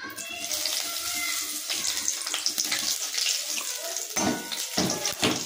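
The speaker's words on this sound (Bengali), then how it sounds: "এবার আমি তেলের মধ্যে জিরে তেজপাতা ফোড়ন দিয়ে দেবো।" Cumin seeds and bay leaf crackle in hot oil in a pan that has just fried tangra fish, giving a steady, close, bright sizzle with sharp spits and pops throughout.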